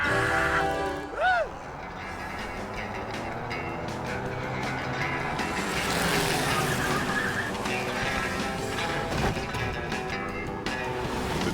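The Bone Wagon car from the game Grim Fandango drives along with a steady engine roar and a short tire squeal near the start, mixed under loud game music throughout.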